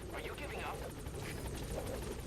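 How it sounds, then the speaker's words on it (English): Support helicopter hovering in Metal Gear Solid 5, a continuous rotor drone with rhythmic chopping under the game's spoken radio chatter. "Support helicopter has arrived."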